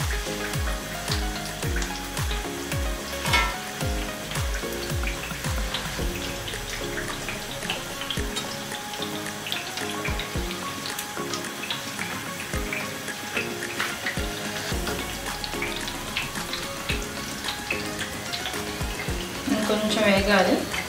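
Wheat flour chips frying in hot oil, a continuous busy sizzle with crackling bubbles running throughout, close and fairly loud, swelling slightly toward the end.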